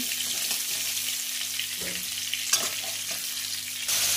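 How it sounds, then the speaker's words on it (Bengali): A fish head fries in hot oil in a pan after prawns have been fried, giving a steady close sizzle with occasional stirring scrapes and a louder crackle near the end. "মাথাটা একটু ভেজে নিচ্ছি"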